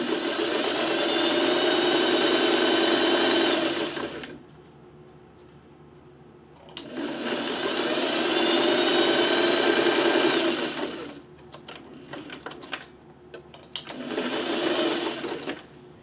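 Sewing machine stitching fabric while a wonky quilt block is pieced, running in three steady motor bursts of a few seconds each, separated by quieter pauses with small clicks and handling sounds.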